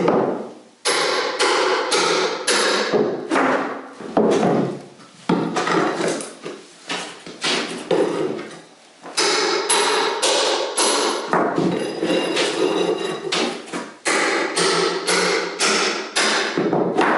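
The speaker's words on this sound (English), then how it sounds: "And I just hammer into them." Repeated hard hammer strikes drive a Wonder Bar pry bar under carpet, loud, close metallic blows in irregular bursts with short pauses, some rapid runs of taps, no voices.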